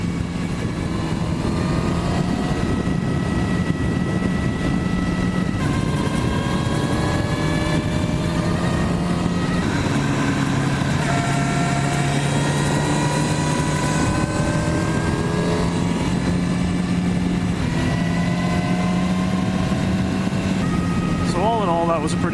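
Motorcycles on a rough road during a fall colors ride, with a loud, steady engine drone and wind rush throughout as the revs shift up and down, and a rider talking over the noise.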